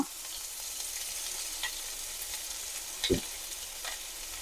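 Green chillies and onion shallow frying over low heat in a pan, a faint steady sizzle with a few soft clinks and one brief low knock, no voices.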